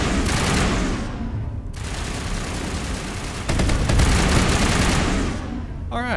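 Dense gunfire rattles through a Mass Effect battle, rapid overlapping shots and bursts forming a loud continuous barrage that swells midway, with faint voice underneath.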